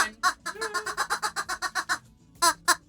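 A small rubber chicken toy being mauled by Lord Doyle lets out a rapid run of about a dozen loud, honking squawks in steady rhythm, then falls silent before two more sharp squeaks close to the microphone.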